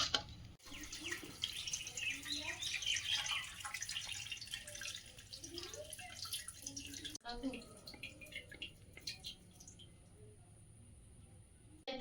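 Lentils and rice are rinsed together for khichuri, with water splashing and dripping into a pot nearby and a soft sloshing texture throughout, while a person talks over it.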